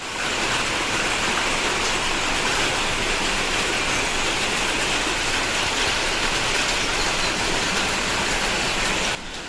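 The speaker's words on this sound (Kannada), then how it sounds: "ಬೆಳ್ ಬೆಳಿಗ್ಗೆನೆ ನಮ್ ಕಡೆ ಮಳೆ ಸ್ಟಾರ್ಟ್ ಆಗಿದೆ" Morning rain falls in a loud, unbroken wash of hiss, steady and close throughout with no voices, ending abruptly.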